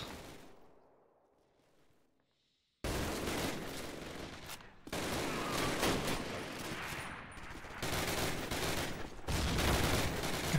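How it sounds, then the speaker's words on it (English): Enemy gunfire in the World War II shooter Call of Duty: United Offensive: after a near-silent opening, a loud, dense barrage of rifle and machine-gun fire erupts and rolls on continuously with sharp cracks. "Stop shooting at me!"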